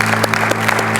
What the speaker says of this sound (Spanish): Un aplauso fuerte a nuestro Dios.